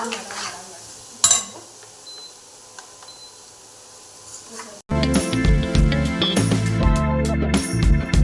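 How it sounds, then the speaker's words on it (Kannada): Vegetables for veg momos fry in a pan, a soft sizzle at first, then a sudden louder stretch of crackling, stirring and utensil clatter up close. "ತರಕಾರಿ ಚೆನ್ನಾಗಿ ಫ್ರೈ ಆಗಬೇಕು 5 ನಿಮಿಷ"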